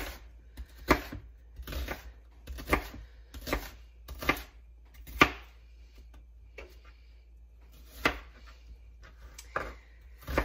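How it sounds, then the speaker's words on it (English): A knife chopping onion on a cutting board for chicken pot pie, sharp irregular knocks spaced about a second apart, close and fairly quiet, with a hushed pause partway through. "I actually don't mind cutting onions."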